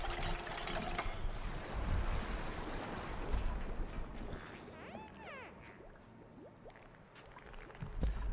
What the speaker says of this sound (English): now the water's going to be flooding in